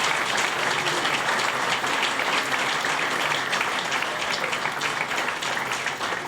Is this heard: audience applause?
yes